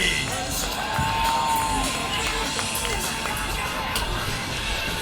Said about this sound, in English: how about a great big round of applause for Mr.